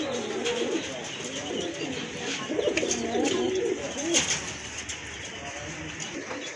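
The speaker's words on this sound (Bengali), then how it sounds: "এই যে দেখেন কত বড় সাইজের কবুতর।" Large pigeons offered at a pigeon sale coo continuously in soft, overlapping throaty rolls nearby, with faint background voices and shuffling.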